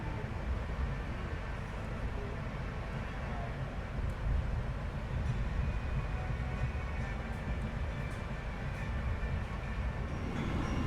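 A train rumbles steadily near the Cipinang railway and locomotive depot in Jakarta, a continuous low roar with faint rail clatter and no pauses.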